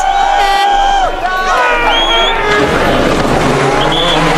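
Rally car on the Col de Turini stage, driven by Sébastien Loeb in 2006 Monte Carlo WRC, revving and shifting loudly nearby with rising and falling engine notes, tire noise and cheering spectators around it.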